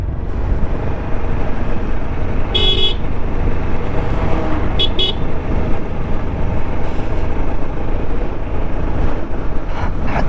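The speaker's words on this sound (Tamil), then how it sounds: "ஹார்ன் அடித்தா திரும்ப ஹார்ன் அடிக்கிறது." Vehicle horns on a road near the Megamalai entrance give a few short toots, brief and somewhat distant, over constant loud wind and driving noise.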